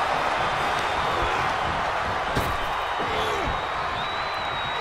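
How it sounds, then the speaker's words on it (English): Steady roar of an arena crowd cheering during a Brock Lesnar versus Sting match in the WWE 2K24 wrestling video game, loud and continuous throughout, with a brief sharp impact midway. "The sound of this crowd is deafening,"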